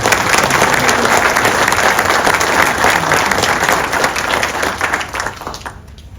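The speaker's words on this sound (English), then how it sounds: "let's give those folks a round of applause" An audience at an Iowa Golf Hall of Fame induction ceremony applauds, with loud, full clapping from many people that holds steady and then tapers off toward the end.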